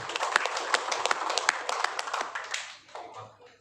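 Audience applause at a talk on becoming a creative content creator, a dense burst of many hands clapping close by that holds steady, then thins out and fades over the last second.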